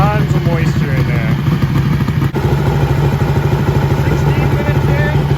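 A motorcycle engine idles steadily as it warms up toward operating temperature, a close, continuous mid-pitched rumble with mechanical clatter running throughout, with no talk over it.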